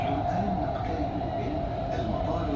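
A Doha Metro train runs through an underground passage, giving a steady, loud rumble with a constant hum throughout and no clear clickety-clack rhythm.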